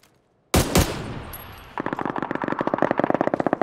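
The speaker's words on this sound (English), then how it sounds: "He's back to single fire on his AUG" Loud close gunfire from an AUG rifle in PUBG: one sharp blast with a long ringing tail, then a fast, even string of single shots cracking out steadily, with no talk over it.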